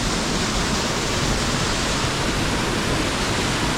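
A waterfall on the Mrzli potok stream in the Soča valley pours into a pool, a dense, steady roar of rushing water that fills the whole clip close up with no voices.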